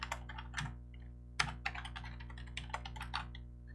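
A password is typed on a computer keyboard. Quick, irregular clicks of keystrokes are heard up close and quietly, with no talking.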